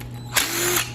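A ratchet loosens one of four 12mm nuts on a cheap snowmobile's cylinder head, giving a close, quick burst of pawl clicks lasting under a second.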